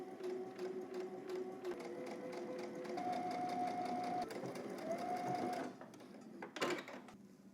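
A sewing machine runs steady topstitching through fabric, its needle hammering in a fast, even rhythm for several seconds before it slows and stops, followed by a short clatter.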